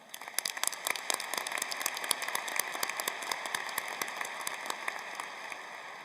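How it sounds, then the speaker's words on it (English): An audience at a 2022 Carlson School undergraduate commencement gives a sustained round of applause, heard from a distance as a steady, fairly soft patter of many hands clapping. "please, let's give them a round of applause."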